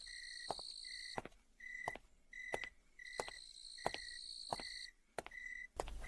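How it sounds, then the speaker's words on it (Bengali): Crickets chirp in an open field on a moonlit night, a faint, regular series of bright pulsed chirps repeating alone with nothing else around them. "ঝিঝি পোকার আওয়াজ আসছে।"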